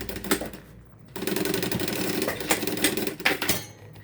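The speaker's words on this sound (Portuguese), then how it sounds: "você vai posicionar aqui. o seu retalhinho e vai passar uma costura." Sewing machine running a half-centimetre seam across a small fabric scrap for a half-moon pouch, a rapid mechanical rattle that starts after a brief pause and continues steadily nearby, with no talking.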